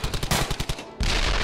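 Rapid gunfire bursts from a Pinball FX table in its Flak 88 cannon mode, a fast rhythmic string of loud shots followed by a sustained roaring blast, dense and close.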